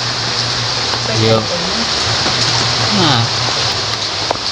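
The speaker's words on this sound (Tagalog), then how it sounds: "Medyo malakas na po yung ulan." Heavy typhoon rain pours steadily in a dense, even hiss, with wind in it, while a voice talks over the downpour.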